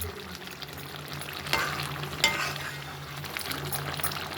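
Quail gravy bubbling and frying in a pan as a spoon stirs it, a constant close sizzle with two louder scrapes of the spoon partway through and no voices.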